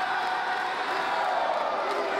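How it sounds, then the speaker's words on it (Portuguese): Crowd at an MMA event at José Liberati gym in Osasco, a steady roar of cheering and shouting that fills the space continuously at close range, with no single voice standing out. "E a torcida está inflamada aqui no José Liberati, na cidade de Osasco"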